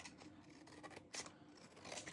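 Scissors cut through a paper card in quiet, close snips, several small crisp cuts spread across the moment, with one sharper snip near the middle.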